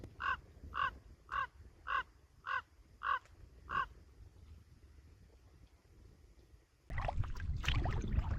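A raven or crow harassing an eagle gives a run of seven loud, evenly spaced caws, heard from a rocking kayak on the Green River at Flaming Gorge. The calls are followed by a burst of wind and rustling noise.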